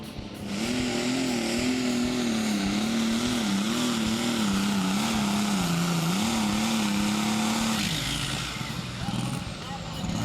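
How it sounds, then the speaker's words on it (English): An alcohol-fueled tractor, converted from diesel, roars loud and steady during a tractor pull, its engine pitch wavering as it strains for about eight seconds before dropping off near the end. "Both tractors have been converted to run on alcohol rather than on diesel fuel."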